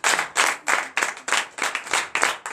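Worshippers at a Friday night deliverance and prophecy service in Benin give rhythmic, synchronized clapping in about eight sharp bursts, loud and close, with no talk over it.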